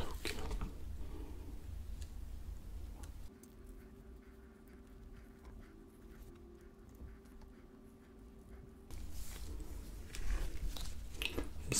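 Soft, close crunches and squishy chews of someone biting into a Burger King cheddar cheese burger come at the start and end, with a quieter stretch between them.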